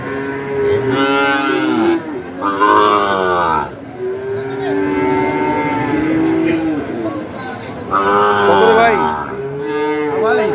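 Sahiwal cattle moo repeatedly nearby at a cattle market, long loud lowing calls one after another with short gaps, with faint background voices.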